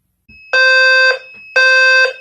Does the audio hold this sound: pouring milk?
no